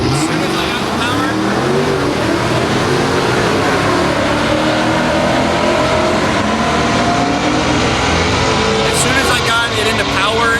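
Drag race car engine screaming at redline with a failing transmission that won't hold power, loud and sustained throughout with shifting rising and falling pitch, while a voice talks over it.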